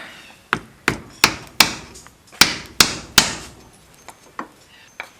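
Hammer blows drive a clutch seal into place through a socket and a piece of wood, a dozen sharp, close knocks in an uneven rhythm, the loudest in the middle and softer taps toward the end.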